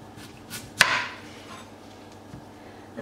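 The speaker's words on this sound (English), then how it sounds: "Now we're going to chop the stalks off." A knife chopping the stalks off a beetroot on a board, one sharp near cut followed by a couple of faint softer taps in a quiet kitchen.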